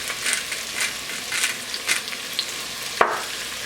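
Bell peppers for peperonata sizzle in a hot pan, a close steady hiss with rhythmic stirring scrapes and a sharp clack near the end, no voices.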